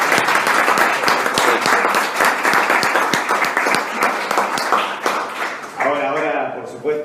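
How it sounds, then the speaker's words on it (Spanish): An audience at a presentation of a new rental law in Rosario bursts into loud, close applause lasting about six seconds, and a voice begins speaking as the clapping dies down. "Un aplauso primero."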